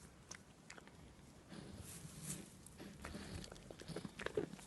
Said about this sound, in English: Don't chew me bloody fingers off.